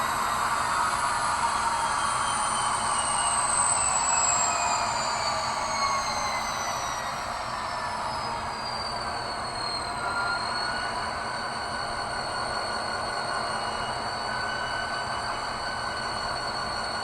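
A ScaleTrains Rivet Counter SD40T-2 model locomotive in Rio Grande livery with a LokSound 5 decoder, playing steady diesel running sounds with a gliding pitch sweep, a continuous moderate drone alone with no talk.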